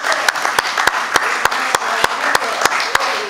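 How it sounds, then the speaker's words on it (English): Applause at a wake for a union figure, with a small gathering clapping in a steady, evenly spaced rhythm of sharp, close hand claps over a murmuring room. "let us give him a round of applause for all what he has done"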